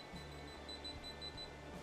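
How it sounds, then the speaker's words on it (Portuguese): A Kaiweets KM601 smart multimeter sounds a steady electronic beep while indicating live voltage, a thin continuous tone over low background hum with no talking. "Tem um bip, um valor ali também luminoso."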